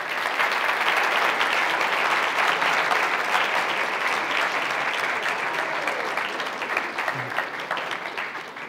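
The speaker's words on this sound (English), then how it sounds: "give them a round of applause" Sustained audience applause in a school gathering, dense and steady clapping from a crowd, loud throughout and tapering slightly toward the end, with no talking over it.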